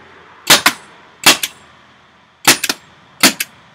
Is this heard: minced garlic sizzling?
no